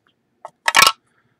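A short crisp snap of stiff new trading cards, a faint tap first, then a louder brief papery crackle up close, surrounded by silence.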